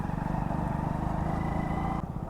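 A motorcycle rides along the road to Barkhadi waterfall near Rajpipla, its engine a steady, close, droning hum with a low throb for a couple of seconds, with no speech.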